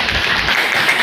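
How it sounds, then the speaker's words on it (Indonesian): A class of students applauding during a classroom lesson, with dense, steady clapping from many hands that holds evenly for about a second with no talk over it. "tepuk tangan untuk takabur"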